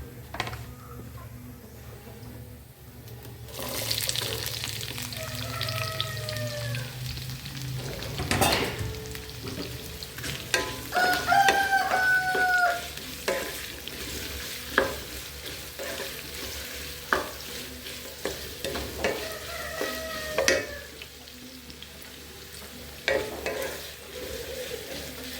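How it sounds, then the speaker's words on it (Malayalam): Onions and green chilies sautéing with coconut pieces in a pan: continuous frying sizzle with repeated scraping and stirring strokes, a few sharp clanks of the utensil against the pan, and some intermittent squeaky tonal sounds. "ഇനി നമുക്കിതിലേക്ക് കട്ട് വെച്ചിട്ടുള്ള വലിയ ഉള്ളി, പച്ചമുളക് എല്ലാം കൂടെ ഇതിലേക്കിട്ട് വഴറ്റിയെടുക്കാം."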